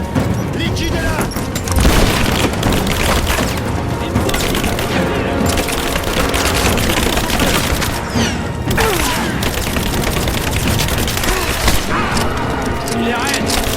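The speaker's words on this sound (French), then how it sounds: "Ouvrez le feu! On me tire dessus!" Heavy gunfire in the video game Rise of the Tomb Raider: dense, continuous bursts of shots and booms throughout, loud and close, with shouted voices mixed in.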